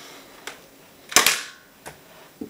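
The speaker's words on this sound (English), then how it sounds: "I'm going to give it another test fire." An Airzone Hawk toy dart blaster fires once with a sharp, loud pop and a short whoosh, and fainter clicks from handling come before and after it.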